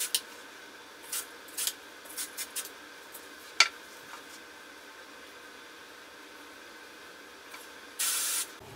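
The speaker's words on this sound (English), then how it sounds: "then I'd finish with a little bit of hairspray." Hairspray from an aerosol can is applied to styled waves, a few short hissing bursts near the start and one longer steady spray near the end, close and alone.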